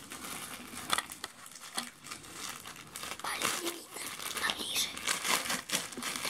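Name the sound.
opening a parcel from China, packaging crinkling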